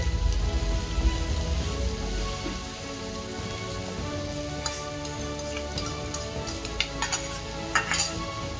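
Two large chopped onions sauté in a pan over a very low flame, giving a soft continuous crackle like light rain, with occasional stirring ticks near the end.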